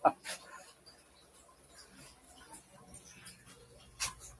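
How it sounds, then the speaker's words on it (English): A small deaf dog barks outside in the dark, sharp yips heard at a distance, one near the start and another near the end, over quiet background hum. "She's just barking, but she doesn't realize like there's nothing out there."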